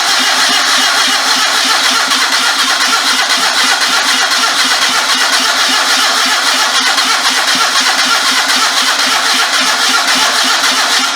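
A homemade trike fitted with a 650 motorcycle engine cranks hard and keeps trying to catch, misfiring on only two cylinders, a loud, steady, raspy churn that never settles into a running idle.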